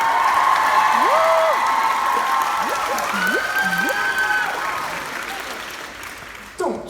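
A large concert-hall audience at a live comedy tour show in Manchester applauds and cheers continuously, a dense wash of clapping with scattered whoops and whistles that fades slightly toward the end.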